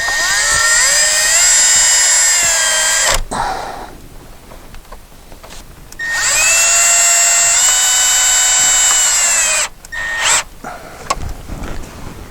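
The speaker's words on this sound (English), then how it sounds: "It sort of pains me drilling into this dash, but here goes." A power drill whines loudly at high pitch drilling into the dashboard of a 2012 VW Touareg, in two long bursts of about three seconds each, with quieter pauses between and a brief third spurt.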